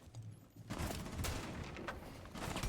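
Gunfire during an esports video game match, a volley of sharp shots over a dense rumbling battle bed, several distinct cracks spread through the stretch at moderate loudness.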